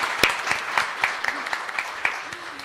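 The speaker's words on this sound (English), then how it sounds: "all our master craftsmen and artisans need an applause" An audience applauds craftsmen and artisans at an event, with a few sharp, distinct claps at a measured pace, moderately loud, no talking over them.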